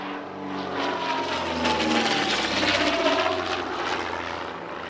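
The vintage de Havilland Comet racer G-ACSS flies past at an airshow, its piston engines giving a steady, fairly loud drone that swells slightly and holds throughout.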